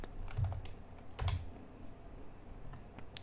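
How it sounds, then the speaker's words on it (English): Short bursts of typing on a computer keyboard as a command is entered, a few quiet clustered clicks with pauses between them. "we'll type maven-v again"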